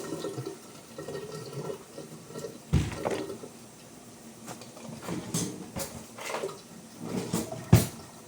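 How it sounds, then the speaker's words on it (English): Hands rinsed under a running kitchen tap, with soft splashing and trickling water plus a few sharper knocks. "And I'm just going to give my hands a quick rinse."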